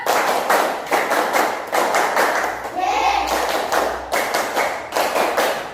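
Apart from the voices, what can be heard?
class doing a rhythmic spirit clap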